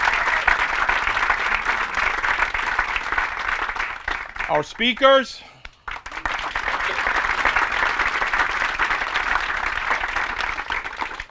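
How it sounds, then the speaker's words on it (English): Applause from an audience at an organization's 20th anniversary celebration, sustained crowd clapping that breaks briefly for a voice speaking over it, then swells again and carries on steadily. "One more round of applause"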